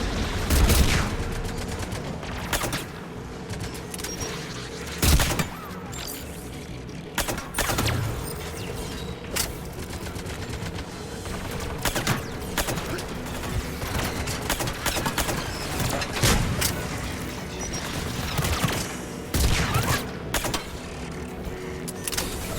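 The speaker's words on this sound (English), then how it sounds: "AA guns ahead." Anti-aircraft guns in Mass Effect 3 at a Geth dreadnought in the Perseus Veil fire in repeated heavy bursts over a constant mechanical rumble, sharp loud reports spaced every few seconds with creaking machinery between.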